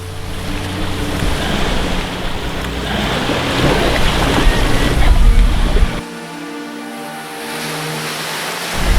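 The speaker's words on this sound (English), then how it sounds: "On the edge of the ocean, to the warm sandy beaches" Ocean surf washing onto a warm sandy beach at the ocean's edge below a mountainside, a steady broad rush that drops abruptly in its low rumble partway through and then continues more thinly.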